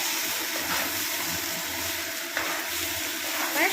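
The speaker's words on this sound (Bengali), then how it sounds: "সব কিছু মশলা দিয়ে ভালো করে নাড়িয়ে চাড়িয়ে নিচ্ছে একদম ভাজা ভাজা টাইপের করে নিচ্ছে কষিয়ে নিচ্ছে" Gobindobhog rice with turmeric powder and spices being stir-fried in a pan, giving a steady, close sizzle with faint scraping from stirring and no voices.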